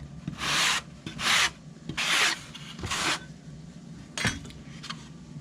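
Hand sanding on a wooden build, a series of rough rasping strokes in short bursts, fairly close and moderately loud, with a brief pause and a sharp scrape near the end.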